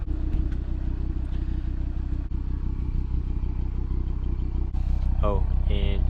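An Audi TT RS fitted with 034 mid pipes, its engine droning in a steady low-pitched exhaust rumble close to the microphone, with faint clatter and a brief chirp near the end.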